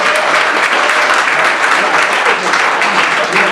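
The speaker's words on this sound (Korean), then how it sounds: "박수로 부탁드립니다." An audience applauds after a startup pitch presentation at a Startup Weekend final, dense and loud clapping that holds steady throughout with a faint voice underneath.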